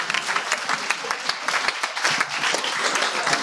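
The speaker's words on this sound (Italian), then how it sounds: "vi meritate un applauso a voi e buona serata" An audience at a library reading-group presentation applauds, giving dense, continuous clapping that fills the whole short stretch at a fairly close distance.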